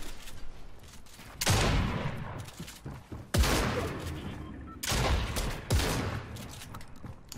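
Bursts of rapid gunfire in the video game Fortnite erupt in several loud volleys, each a dense crackling rattle followed by brief lulls, close and harsh.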